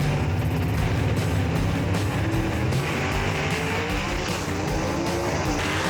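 Gasser drag race cars roar down the dragway at Knoxville, a loud, continuous engine blare with tire noise that stays dense and unbroken throughout, and no voices over it.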